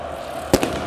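A firework or firecracker bursts in a football stadium during the USMA–MCA derby in Algiers, one sharp bang followed by a weaker second crack over a steady crowd rumble.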